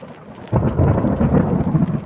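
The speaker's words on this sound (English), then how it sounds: "and there's the thunder to go with it" Deep rumbling thunder rolls in loud and close during a heavy rainstorm after fork lightning, swelling suddenly and sustaining over steady rain with no voices.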